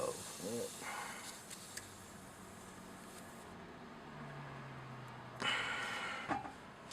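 Compressed air hissing from an open bleed valve on a pressure gauge setup, a steady broadband hiss through the clip with brief louder bursts near the start and again toward the end.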